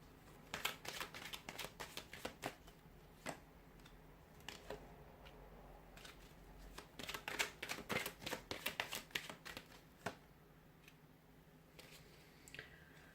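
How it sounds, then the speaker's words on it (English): Tarot cards are handled and shuffled close by, giving quick papery riffles and soft ticking taps in bursts, fairly faint with quiet pauses between them. "we'll pull out a few more cards here."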